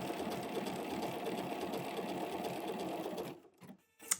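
A sewing machine runs steadily while stitching crazy patchwork fabric, a continuous rapid mechanical whir close by for about three seconds before it stops, followed by a few faint clicks.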